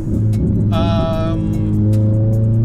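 A Mitsubishi Lancer EX engine hums steadily while driving, rising briefly in a revving surge before settling back to a smooth, close, continuous drone.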